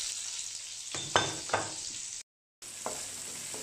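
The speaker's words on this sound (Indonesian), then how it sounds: "sekarang saya akan menumis bumbu-bumbu ini dulu" Spice paste for tom yam sautéing in a pan, a steady sizzle broken by a few stirring scrapes and a brief drop-out, with no voices.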